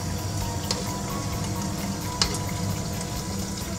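Vegetables for pappardelle sizzle steadily in a pan, a constant close hiss with a couple of sharp ticks, and no talking.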